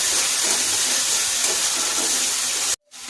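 Water poured into hot spice paste with pureed tomato and separated oil in a pan for a spicy pabda fish curry, giving a loud, steady hiss and sizzle for almost three seconds before cutting abruptly to a faint bubbling.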